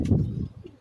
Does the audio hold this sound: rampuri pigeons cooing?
yes